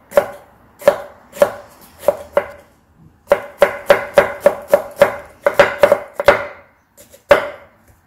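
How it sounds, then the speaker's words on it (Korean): Thin slices of jalapeño peppers cut with a knife on a cutting board for chayote pickle, heard as crisp, rapid chopping strokes in quick bursts with brief pauses between them, close and clear with no talking. "할로핀도 이렇게 먹기 좋게 얄짱얄짱 썰으시면 돼요."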